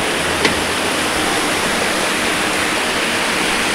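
Flowing water of the Suk river near an old village bridge in the rain forms a loud, unbroken roar, with one faint brief tick early on and no speech.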